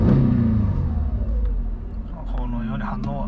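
A high-mileage former private-taxi Mercedes-Benz S350 engine rumbles and revs as the accelerator is pressed, a low steady drone up close with someone speaking over it.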